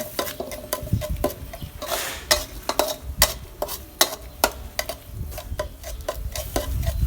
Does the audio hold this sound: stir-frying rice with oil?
yes